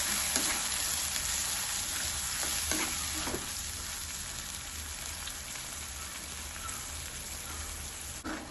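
Steady, loud sizzling of tomatoes frying in a pan, a dense crackling hiss that continues throughout with occasional stirring scrapes.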